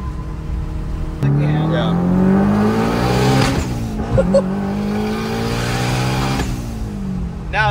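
A Mitsubishi Lancer Evo 8 with a big turbo, its engine revving hard up through the range with rising and falling pitch sweeps, loud and close, while people talk over it.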